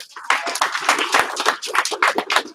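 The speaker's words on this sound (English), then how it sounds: "Give him 1 clap." A class clapping together, a burst of many overlapping hand claps repeated in quick rhythmic bunches, close and lively rather than a single clap.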